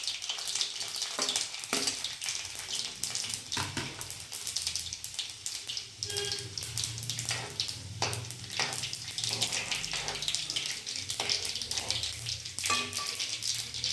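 Chopped garlic frying in hot oil, a continuous close sizzle with stirring clatter running steadily throughout, no talk.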